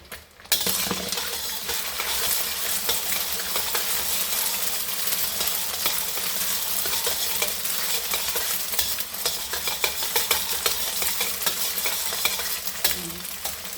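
Continuous loud sizzling of fried rice in a hot pan, with a utensil stirring and scraping throughout and occasional metallic clinks, heard alone without speech.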